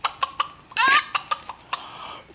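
A storybook hen clucks in a series of short, sharp notes with one longer squawk in the middle, heard close and clear with no talking.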